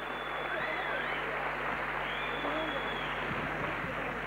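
Audience applause for a singer at the 1997 Kral music awards ceremony; a dense, steady wash of many hands clapping fills the hall, continuous and fairly loud, with faint voices and whistles mixed underneath.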